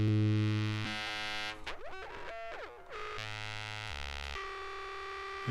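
A Moog Grandmother synthesizer run through a spring reverb plays buzzy, distorted sustained tones that jump and sweep in pitch, with a warbling, insect-like stretch in the middle. The notes are held loud and alone, with no voices.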